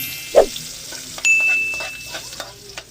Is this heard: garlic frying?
yes